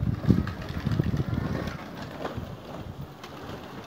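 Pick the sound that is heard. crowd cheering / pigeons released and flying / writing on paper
pigeons released and flying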